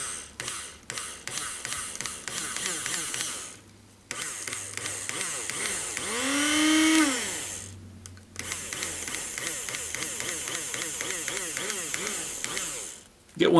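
A small coffee grinder mixing fly-tying dubbing whirs up, holds for a few seconds and winds back down, with clicking and rattling handling noises before and after.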